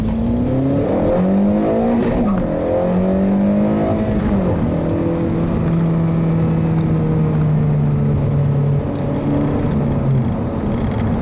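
A 2013 Acura ILX with a 6-speed manual, its engine heard from inside the cabin revving loudly toward a 7,000 RPM redline, with the pitch climbing, dropping at each gear shift, then holding steady.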